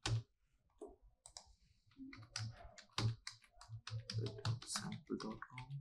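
Quick irregular clicks of keys on a computer keyboard as a name is typed into a web CRM form, crisp and close in a quiet room, with short pauses between bursts of keystrokes.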